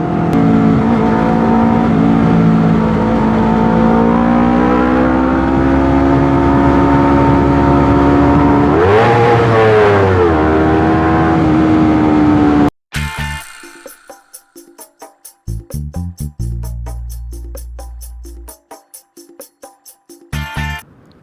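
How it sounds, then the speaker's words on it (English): Twin-cylinder engine of a Honda CBR 250RR motorcycle, ridden in Bali, holds a steady, close hum with a sharp rev partway through, then cuts off abruptly into a choppy, broken-up passage. "Today we are trying the Honda CBR 250RR"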